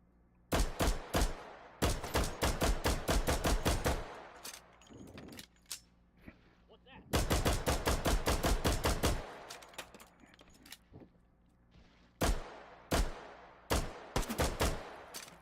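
Gunshots ring out in a VR shooting video game as rapid bursts of sharp cracks in several volleys, some fast like automatic fire, with short quiet gaps between them.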